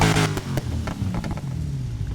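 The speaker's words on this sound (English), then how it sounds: "Let's see what the exhaust sounds like." A Dodge Challenger SRT Demon engine, built to 1500 hp, revs briefly through its exhaust, a low throaty growl rising and falling over a couple of seconds.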